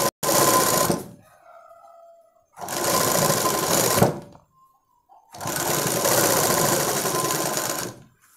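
An electric sewing machine stitches piping onto a blouse neckline in three loud, steady runs, each separated by brief pauses with quiet fabric handling.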